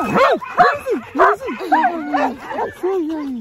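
Dogs barking, yipping and whimpering close by, a rapid run of excited high-pitched yelps and whines, heard alone without speech.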